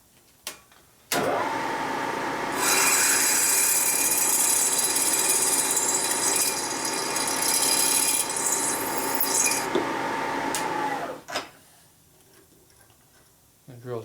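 A drill with an F-size bit bores into the exhaust port of a 1977 74ci Harley shovelhead cylinder head, a steady whirring grind lasting about ten seconds after a click of startup, then winding down.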